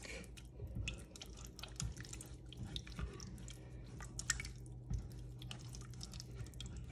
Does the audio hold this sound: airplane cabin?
no